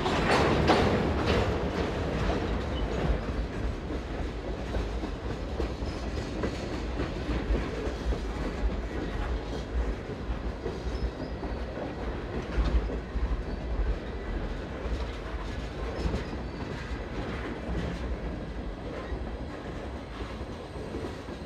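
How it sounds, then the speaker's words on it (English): A rebuilt GP20C Eco light locomotive rolls past with continuous clickety-clack of wheels on rail and a low engine rumble, steady throughout at moderate distance. "This light engine is a rebuilt GP20C Eco."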